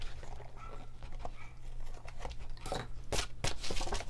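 Scissors trim the excess paper from the back of a die-cut panel in a few close crisp snips with light rustling, the cuts clustering toward the end.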